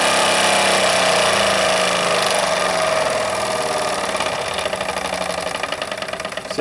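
A Wilesco D24 model steam engine idles close by with a fast, rhythmic metallic clanking running through its steady chug.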